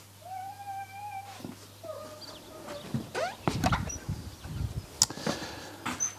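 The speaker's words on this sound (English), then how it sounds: "Cat!" A cat meows several times nearby, drawn-out tonal cries followed by scuffling, clattering noises, with a steady low hum underneath.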